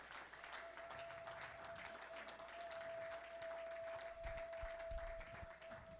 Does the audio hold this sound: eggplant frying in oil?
no